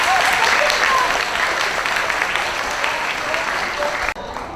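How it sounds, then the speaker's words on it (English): A roomful of people at a school All-Star ceremony claps steadily in a dense, lively burst of applause that cuts off abruptly near the end. "let's give one more big round of applause"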